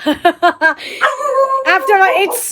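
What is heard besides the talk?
dog barking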